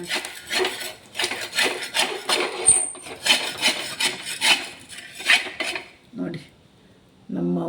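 A dosa being scraped off a new pan, heard as repeated close rasping scrapes of a metal spatula against the pan surface in quick bursts, followed by a couple of softer knocks and a low clatter at the end.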